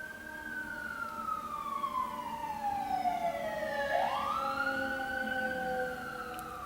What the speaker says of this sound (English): Always sirens in the ghetto.